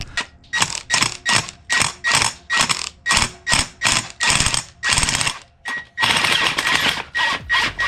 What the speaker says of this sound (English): This very well might be a wasted socket, but it might just take it off too.